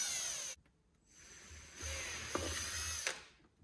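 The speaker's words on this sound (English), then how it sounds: "drill a hole here and drill a hole here" A 3/16 drill bit bores a hole through a plastic KTM-style motorcycle headlight fitted to a Suzuki DRZ400SM, with a steady mid-level whine that cuts out briefly and then resumes in two close bursts.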